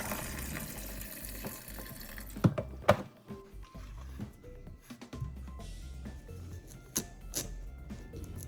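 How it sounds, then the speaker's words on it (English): Salted cabbage is rinsed in water to wash off excess salt, producing soft, close splashing and trickling with a few sharper handling knocks, fairly faint overall. "Then we're going to wash it to remove some of that excess salt."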